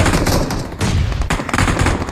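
Loud, rapid gunfire crackles in a battle royale video game. Dense bursts of shots come close together and are briefly interrupted by short gaps.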